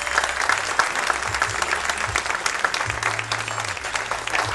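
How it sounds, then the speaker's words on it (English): A live audience gives a sustained round of applause at an honoring event for an individual, a steady dense wash of clapping that holds evenly throughout without speech over it. "Give him a real nice round of applause."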